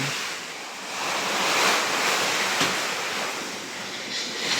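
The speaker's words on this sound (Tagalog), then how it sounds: "Sobrang lakas ng hangin, guys." Strong super typhoon wind roars behind a house, a continuous broadband rush that swells and eases in gusts, buffeting the microphone with no voices present.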